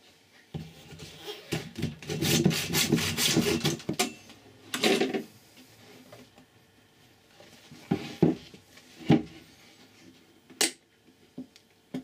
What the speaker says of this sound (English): I'm going to cut this and basically take the end off the battery